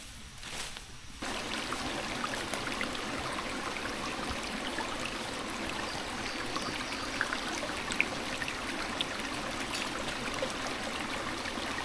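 Strong, steady rush of the Cahaba River flowing hard, a dense continuous wash of water noise filling the scene from start to finish after a brief quieter opening moment.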